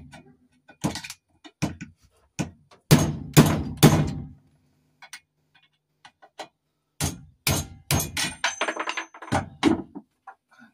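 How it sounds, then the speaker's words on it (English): A hammer strikes a cut locking wheel nut ring to snap it out, giving sharp metallic knocks alone: a few spaced single blows, then a cluster of rapid hits, a pause, and another quick series. "I need to just hammer it now to snap it out."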